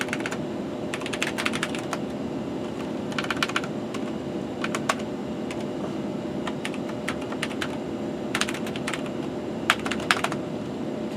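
Fingers type on a computer keyboard attached to an old Pentium III PC, with bursts of quick, close key clicks separated by short pauses over a steady low machine hum.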